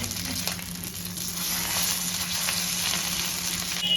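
Snacks frying in a small amount of hot oil, a steady close crackling sizzle with fine spitting pops running throughout, no voices.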